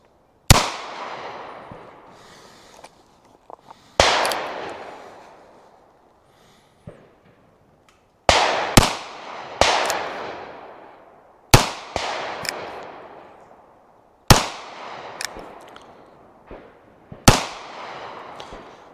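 An NAA mini revolver firing Hornady 30 grain VMAX rounds at 10 yards: about eight sharp, loud cracks in irregular bunches, each trailing a short decaying echo, with no talking.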